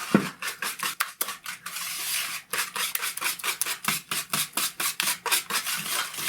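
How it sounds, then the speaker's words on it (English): A whisk beats brownie batter in a bowl with quick, rhythmic rasping strokes, close and steady, pausing briefly before resuming. "I want to use the whisk just to get that all in there."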